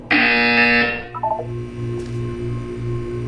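Loud harsh electronic buzzer from the Portal 2 video game, a sustained tone lasting about a second, followed by a short run of electronic beeps and a softer repeating pulsed tone.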